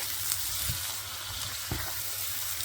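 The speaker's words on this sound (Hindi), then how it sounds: "अब चिकन टिक्का भी डाल के इसको अच्छी तरह से भून लेंगे" Chicken tikka frying in a pan for butter chicken, a steady hissing sizzle with a couple of soft stirring bumps, close and fairly even in level.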